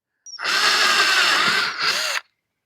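A powered wrench tightens an armrest bolt on a Massey GC1723 tractor, one close, loud whirring burst of about two seconds that dips briefly near the end before stopping abruptly.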